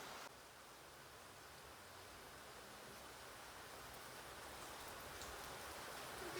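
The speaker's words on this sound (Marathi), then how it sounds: "म्हणजे खूप जास्त पाऊस येतोय" Heavy rain pouring down steadily, a dense even hiss that stays unbroken and fairly faint throughout, with no voices.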